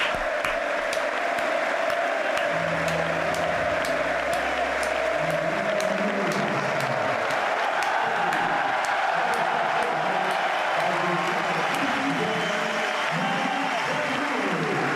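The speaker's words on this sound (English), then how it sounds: "A special moment for Marc Bernal, who receives a round of applause" A large crowd applauding at the Johan Cruyff Stadium during an FC Barcelona vs Valencia football match, sustained clapping that swells over the whole stretch, with some crowd noise mixed in.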